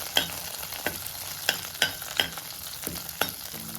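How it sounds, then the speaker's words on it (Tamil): Curry leaves frying on a low flame for a mint-coriander thuvaiyal, a soft constant sizzle broken by sharp, regular stirring clacks of a spoon against the pan, close and alone. "இப்போது கருவேப்பிலையும் அதில் சேர்த்துக்கலாம் ஸ்டவ்வை சிம்லேயே தான் வச்சு வறுக்கிறேன்"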